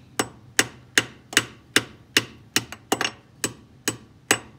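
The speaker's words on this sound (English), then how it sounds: "I'm gonna get a hammer." A hammer taps a speedometer cable fitting on an Opel GT about a dozen times at a steady pace, each strike sharp and ringing briefly, close by with no talking.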